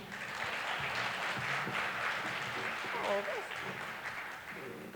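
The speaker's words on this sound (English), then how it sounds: "Let's give Commissioner a round of applause," A gala dinner crowd claps for the Commissioner in steady, sustained applause that fills the hall, with voices talking over it.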